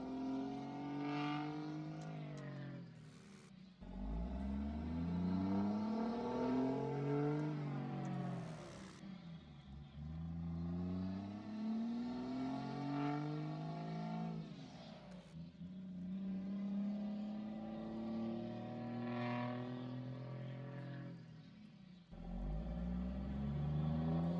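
A third-generation pickup truck engine revs up and down repeatedly, its pitch rising and falling in long sweeps, loud and close, with a deep rumble underneath.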